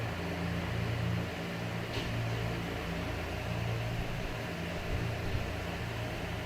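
A mixer grinder pulverises fennel seeds and dried chillies into powder, a steady loud whirring drone with a gritty rushing texture that holds unbroken throughout.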